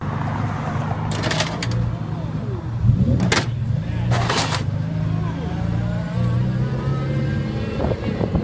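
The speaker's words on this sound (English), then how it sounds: "This Mercedes CLK GTR scrapes whilst leaving this gas station." Mercedes CLK GTR scraping its underside while pulling out of a gas station: a steady low engine rumble broken by three short, harsh bursts of scraping.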